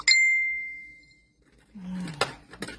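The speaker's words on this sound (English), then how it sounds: "I got a design team who's chatting away. I'm not sure if you guys can hear the dings or not" A single bright chat notification ding rings out and fades over about a second, followed by faint rustling and a short voiced sound.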